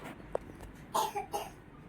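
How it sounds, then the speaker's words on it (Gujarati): A single short cough, close by and fairly clear, followed by a couple of fainter throat sounds, at an indoor birthday gathering. "અહીંયા જો ઉધરસ કોને આવે છે?"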